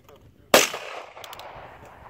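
An Uzkon UNG12 shotgun fires a single 30 gram shell from a ten-round magazine, one sharp close blast that rings out and decays over about a second and a half, with faint outdoor background.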